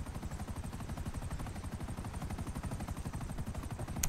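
Fast rhythmic automatic gunfire in GTA Online, a continuous rattle of evenly spaced shots, faint and at a distance, with no talk.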